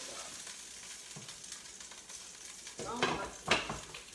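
Stuffed meatballs cook quietly in a pot of marinara sauce, giving a soft low simmer, then a couple of louder clinks and scrapes from utensils near the end.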